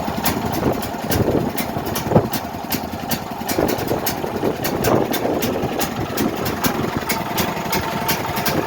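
A Duramax 8500 dual-fuel generator runs on propane at a slow, steady idle, its engine drone continuous and close with a faint rhythmic ticking throughout.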